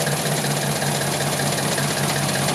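A Jaguar AJ30 V6 running on a ME360 ECU in a 1971 Gilbern idles steadily, a continuous even engine drone with a faint rough knock, close and fairly loud with no talk.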